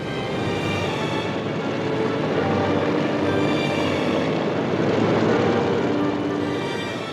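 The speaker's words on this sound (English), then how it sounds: "the first wave of Japanese aircraft took off, led by Commander Mitsuo Fushida." Japanese propeller aircraft in flight during the Pearl Harbor attack, a steady, loud broadband engine drone that holds continuously throughout with no talk.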